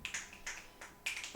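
Four sharp finger snaps spaced about a third of a second apart, crisp and close, with quiet room tone between them and no talking.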